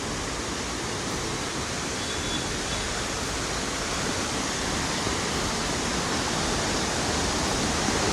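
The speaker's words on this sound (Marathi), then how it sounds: "आता आवाज येत नसेल तुम्हाला, कारण वॉटरफॉलचा आवाज जास्त आहे" Tamhini Ghat waterfall roaring as a dense, steady wash of broadband noise, close and loud, unbroken and unchanging for the whole stretch with no voices.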